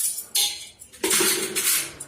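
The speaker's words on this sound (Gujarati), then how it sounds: "આપણે જે આ ચમચી હોય છે એને આવી રીતે અંદર મૂકી દેવાની છે" Steel spoons clatter and clink as they are placed inside a steel pressure cooker in two quick bursts, close and fairly loud.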